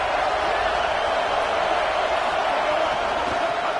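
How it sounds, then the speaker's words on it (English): Steady roar from the crowd at an Ole Miss versus Oregon college football game, a dense wash of noise held at one level with no distinct cheers standing out. "This crowd ready to make its presence known."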